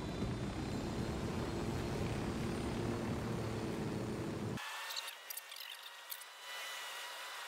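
A helicopter in Ghost Recon Wildlands gives a steady, dense rotor and engine roar that suddenly drops to a thinner, quieter whir with faint clicks.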